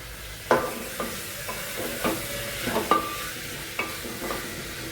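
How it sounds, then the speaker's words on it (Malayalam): Ingredients for a potato stew are sautéed in a pan. About eight sharp spoon scrapes and stirs sound at an uneven rhythm over a soft, steady sizzle, close up, with no speech. "ഒരു 2 മിനിറ്റ് ഇത് വഴറ്റണം."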